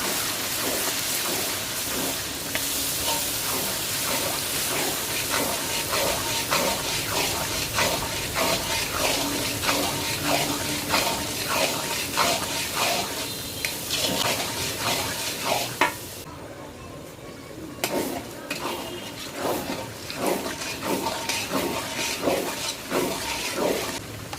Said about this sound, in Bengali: তিন থেকে চার মিনিট আদা এবং রসুন কষানোর পরে